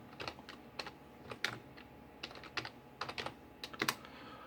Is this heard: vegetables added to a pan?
no